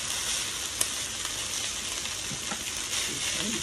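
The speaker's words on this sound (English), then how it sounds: "I'm going to keep on stirring around there." Pork fried rice sizzles steadily in a deep frying pan while being stirred, a continuous close hiss punctuated by a few soft scrapes and taps.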